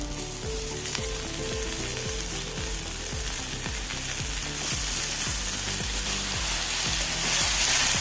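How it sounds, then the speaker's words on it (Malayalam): Palak spinach sautés in a pan with moong dal for a thoran, a continuous close sizzle with a repeating rhythmic mechanical whir or ratcheting underneath, growing slightly louder toward the end, no voices. "ഇനി നമുക്ക് പാലക്കടുപ്പത്തിട്ട് കൊടുക്കാം"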